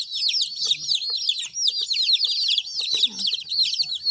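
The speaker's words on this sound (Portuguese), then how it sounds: "o frango que eu te falei, o tamanho, ó. Ele é bem novinho, Jana." A young chicken peeps and clucks in a rural yard, rapid high chirping calls repeating steadily and fairly close, with faint low sounds beneath.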